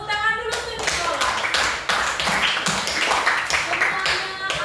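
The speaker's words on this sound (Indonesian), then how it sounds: "Tepuk tangan dulu untuk Nicholas" A classroom of students claps for a classmate, a dense, lively patter of hand claps and taps lasting several seconds, fairly close and loud, with voices mixed in.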